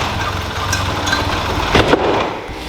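A Toyota Celica GT-Four engine revs up and falls back while in gear, the car failing to pull away; a steady loud engine drone with a brief swell of revs near the end.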